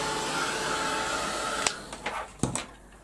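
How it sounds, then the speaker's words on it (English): A heat gun blows a steady, airy whoosh for about a second and a half, then gives way to a few sharp clicks and handling knocks. "give that a quick blast with the heat gun"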